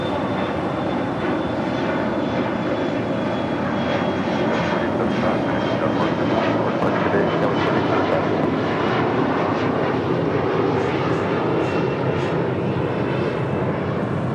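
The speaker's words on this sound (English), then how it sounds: "United Airlines, flight 515, heading to San Diego, California in a 737 MAX 9" United Airlines Boeing 737 MAX 9 jet airliner at LAX, headed for San Diego, giving a steady, loud engine roar that stays even across the whole stretch with no talk over it.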